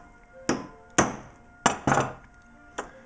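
A hammer taps pilot holes through a template into a DIY synthesizer panel, five sharp strikes at uneven spacing, close and distinct against a quiet room.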